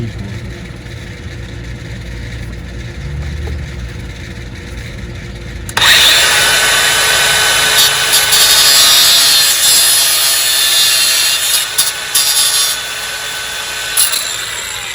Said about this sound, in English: So now we're going to sand it with the grinder.